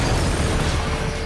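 An explosion in the Just Cause 3 video game, a dense, loud, sustained rumbling blast filling the whole short burst without a break.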